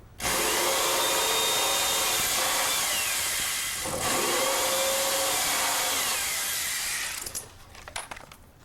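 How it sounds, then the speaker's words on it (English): A power drill whines steadily as it bores into foam while building a hovercraft, pausing briefly midway, then winds down and stops with a few clicks. "Then drill out the side."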